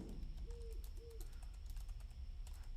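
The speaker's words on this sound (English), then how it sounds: "if you hear an owl, you'll either spawn Tanner, won't spawn Tanner, or Tanner will come soon." In a horror video game, an owl gives two short hoots in quick succession, soft and slightly distant over a low rumbling ambient background.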